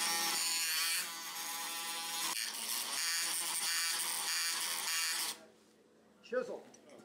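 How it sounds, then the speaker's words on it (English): Oscillating saw cutting bone during knee replacement surgery, a steady high-pitched buzzing whine lasting about five seconds with a slight shift in tone partway through, then stopping and leaving faint handling noise. "perform the cuts with the oscillating saw"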